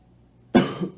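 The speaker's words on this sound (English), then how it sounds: "That's a cough." A single loud, close, harsh cough bursts out after a quiet moment, and a second cough starts right at the end, with no talking.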